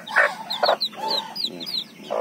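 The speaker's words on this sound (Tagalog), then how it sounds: "Dito sa inahing ito, medyo mabait itong inahing ito." A hen clucks a few times close by, short soft calls spaced irregularly over a quiet farmyard background, with chicks peeping faintly.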